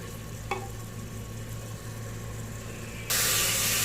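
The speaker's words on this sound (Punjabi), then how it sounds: "ਇਹਨੂੰ ਤੜਕੇ ਨੂੰ ਆਪਾਂ ਭੁੰਨਣਾ ਹੈ" A tadka tempering roasting in a pan for a summer saag: a steady frying hiss with a faint clink early on, then the sizzle surges sharply louder near the end.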